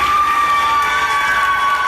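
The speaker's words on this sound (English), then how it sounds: "Everybody out there was cheering for me and everything." A crowd cheers and whoops as a COVID-19 patient leaves hospital, a steady, loud wash of mixed voices with a ringing tone running through it, continuous for the whole moment.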